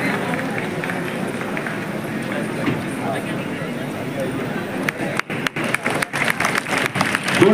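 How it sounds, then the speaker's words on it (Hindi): An audience at a cultural event applauds loudly with sustained, dense clapping. Near the end the clapping breaks into sharper, uneven bursts. "आपकी तालियां जोरदार तालियां बजती हैं।"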